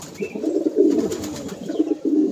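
Pigeons at a home loft coo in steady low, throaty phrases, close and fairly loud, with a brief pause before the cooing resumes.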